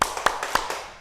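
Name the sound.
class clapping rhythm with the teacher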